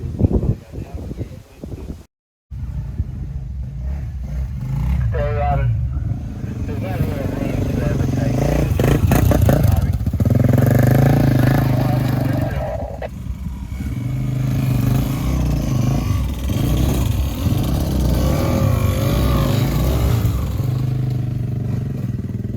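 Off-road four-wheel-drive vehicles on a trail in the Watagans, New South Wales, produce a loud, continuous engine rumble with revving, clatter and scraping. Voices talk over it throughout.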